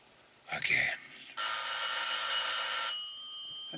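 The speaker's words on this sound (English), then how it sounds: "The telephone is ringing." A telephone bell rings in a sustained, bright trill lasting over a second, preceded by a brief voice, then a faint hum continues.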